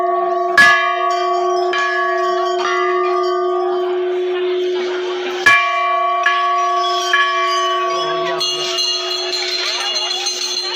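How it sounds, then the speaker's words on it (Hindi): A metal temple bell struck by hand after puja at a hillside shrine, several loud clanging strikes that ring out and slowly decay with shimmering overtones, while people talk quietly nearby. "अब चलो घंटा बजाते हैं, पकड़ो इसको, चलो घंटी।"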